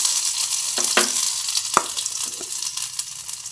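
Garlic and ginger fry in a hot pan with a continuous crackling sizzle. A few sharp clatters of stirring break through near the start and middle, and no one speaks.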